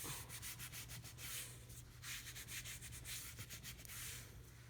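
Fabric being rubbed down firmly by hand during an in-the-hoop machine embroidery bag project, a steady, close scratchy rubbing in rapid repeated strokes with no talking.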